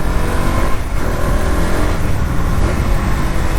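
A KTM Duke 200 motorcycle rides along in fourth gear, its engine giving a loud, steady, sustained roar mixed with rushing wind noise throughout.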